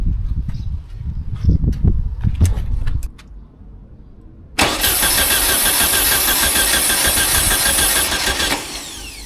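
A VW trike engine cranks in uneven bursts, pauses, then catches and roars into a steady, loud running rumble that continues to the end.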